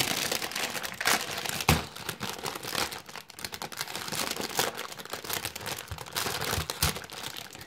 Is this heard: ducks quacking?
no